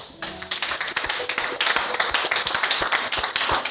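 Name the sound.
church congregation clapping and acclaiming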